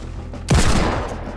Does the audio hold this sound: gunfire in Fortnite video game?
yes